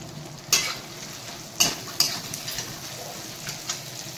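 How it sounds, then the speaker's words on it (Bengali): Onion and green chilli sizzle in a pan under steady frying noise. A spatula clinks sharply against the metal several times, and the clip is free of talk. "এবার আমি পেঁয়াজটা দেবো, একটু লাল লাল করে ভাজবো।"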